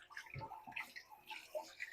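Tap water runs and splashes softly as vegetables are rinsed under it, with small irregular drips and patters over a faint steady flow.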